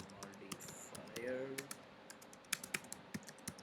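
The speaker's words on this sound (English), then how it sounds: "So we are typing" Keys on a computer keyboard clatter in quick irregular bursts during an Android Jetpack Compose coding session, quiet and close, with someone talking over part of the typing.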